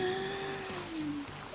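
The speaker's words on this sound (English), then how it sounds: "Why is the rain getting even louder?" Continuous rain pattering and hissing in the Sons of the Forest video game, with a low droning tone that slowly sinks in pitch running underneath, and no voices.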